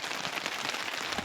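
Heavy rain falls on Tharad village, a close, continuous wash of splashing drops with small irregular patters on surfaces and no voices.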